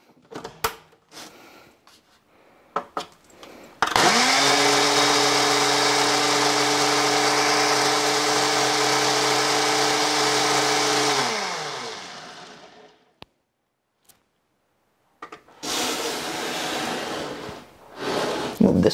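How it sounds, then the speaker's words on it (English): A single-serving blender whirs steadily for about seven seconds while mixing jello pudding, loud and sustained with a strong motor hum, then spins down; brief talk and handling noises come before and after. "My single serving blender."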